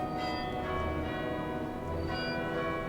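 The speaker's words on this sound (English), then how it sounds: "Hearing wedding bells for a failed marriage" Wedding bells in the game We Were Here ring out in two tolls, sustained metallic tones with long humming decay, steady and moderately loud with no voices.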